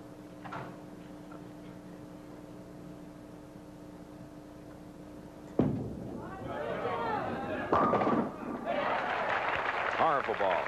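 A bowling ball rolls down the lane at the Bradley Bowl in Windsor Locks, Connecticut, during the 1979 PBA U.S. Open final. A low rumble follows a steady hum, then the pins crash loudly and keep clattering.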